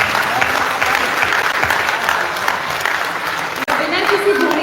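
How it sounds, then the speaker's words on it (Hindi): An audience at a Hindi poetry gathering (kavi sammelan) claps steadily and loudly throughout, a dense, continuous applause with no pauses. "आप सब तालियां बजा रहे हैं।"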